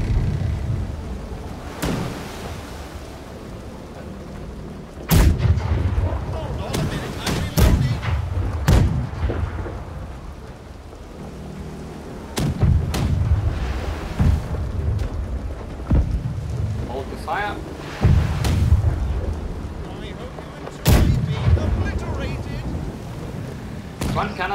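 Ship cannons in the Blackwake naval battle game fire in a string of loud, sharp booms spaced a few seconds apart, with rumbling decay, while someone talks between and over the shots.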